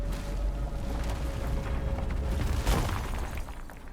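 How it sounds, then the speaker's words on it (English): An explosion in the video game RuneScape: Dragonwilds: a dense, continuous roaring rumble with a sharper blast bursting through near the end, loud and sustained. "Explosion."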